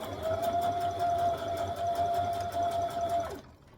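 A sewing machine stitches a dress seam with elastic, running close and continuous with a steady whirring hum and rapid needle ticks before stopping abruptly near the end.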